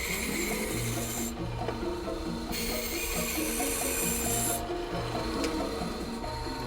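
Pine being shaped into a rhino horn with steady rasping strokes, a continuous loud scraping rub in repeated bursts, close and without talk.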